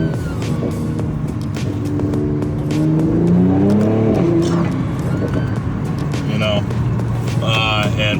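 A Mercedes-AMG C43 revs up and down close by, its engine and exhaust note rising and falling in pitch across several pulls, with someone talking over parts of it.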